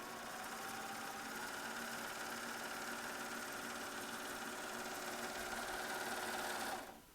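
A Babylock Ovation serger stitching at a steady fast pace, its rapid mechanical whir continuous and close before stopping at the end.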